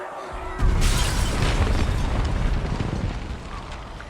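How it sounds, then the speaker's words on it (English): An explosion from a scene in The Last of Us game adaptation erupts suddenly as a loud, deep boom, then a long rumbling roar that slowly fades. "Tess drops a lighter on the floor, causing an explosion."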